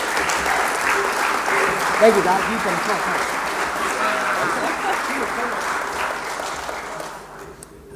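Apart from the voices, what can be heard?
audience applause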